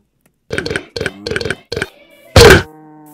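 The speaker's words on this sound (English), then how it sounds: "It's supposed to be a burp, that last weird sound." A garbled burp sound effect in a video game lands as one short, loud, distorted belch near the end, after a run of quick blippy in-game tones.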